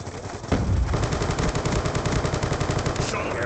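Rapid automatic fire from a Peacekeeper gun in Black Ops 2, loud and close, with a sustained burst of quick shots that starts abruptly and continues without a break to the end.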